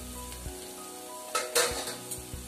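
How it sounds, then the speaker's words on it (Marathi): Malvani masala paste sautéing in oil in a pan, a soft steady sizzle broken by a few sharp metallic spatula scrapes and clinks against the pan. "चांगलं मिक्स करून चांगलं तेल सुटेपर्यंत परतून घेऊया आपण"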